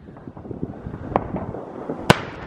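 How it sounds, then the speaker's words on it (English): Scattered pops and crackles of New Year's Eve fireworks burst at a distance in Berlin, irregular and fairly faint, with one sharper bang standing out near the end. "Do you guys see all the fireworks out in the distance?"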